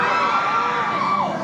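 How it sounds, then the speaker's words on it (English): A crowd in a football stadium cheers and shouts in a short, steady swell of massed voices, no commentary heard. "The crowd getting into that one."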